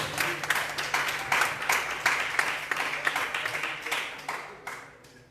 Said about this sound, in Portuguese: E a igreja aplaude o Senhor